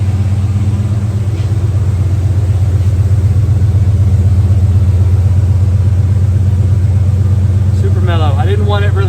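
A 1994 Ford Bronco with a cat-back exhaust idles in a steady, deep, mellow rumble, loud and close throughout, with a brief voice near the end.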